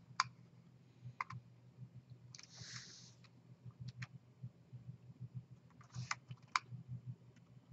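Quiet clicks of a computer keyboard and mouse at a desk, a few isolated keystrokes and short bursts spaced over a faint background hum, no talking.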